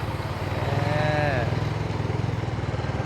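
A motorcycle engine rumbles close by with a steady, low, pulsing idle throughout, and a brief rising tonal call sounds over it partway through.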